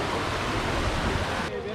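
Steady broadband roar of rushing water close to a secret waterfall along a forest stream at Alasandrapuram, a continuous loud wash of flow with no pauses.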